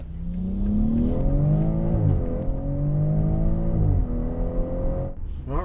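A 2018 BMW X3 M40 accelerates hard through the gears, its engine note rising in pitch, dropping at each shift, then climbing again, loud and steady from inside the car.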